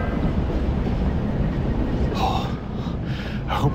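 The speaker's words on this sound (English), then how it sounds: "How do I get off this train?" Steady low rumble of a moving train in the video game Reveil, a continuous broadband rolling drone with faint higher whooshes, heard close and alone without speech.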